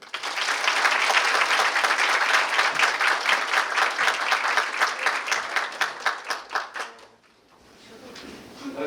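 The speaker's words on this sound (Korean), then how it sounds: "큰 박수로 환영해 주시기 바랍니다." Lecture audience applause welcoming a University of Chicago physics professor at a Korea University public science talk, a dense sustained clapping that settles into slower scattered claps before dying away, followed by a quiet room.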